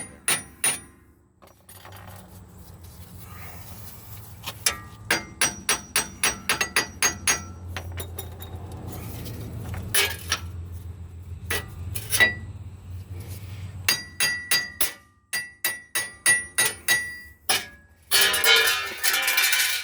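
Repeated metal hammer blows on a front wheel bearing of a 2004 Dodge Ram 1500 ring out in quick bursts and irregular runs, loud and close, with occasional scraping between strikes.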